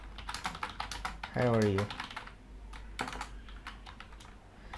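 Keystrokes on a computer keyboard while an email is typed, a steady run of close, light clicks with a short spoken phrase partway through.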